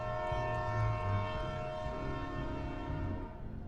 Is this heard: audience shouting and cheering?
no